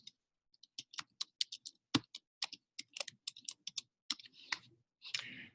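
Someone types on a computer keyboard in a quick irregular run of crisp, close key clicks, faint overall with brief pauses and a slightly heavier clack near the end.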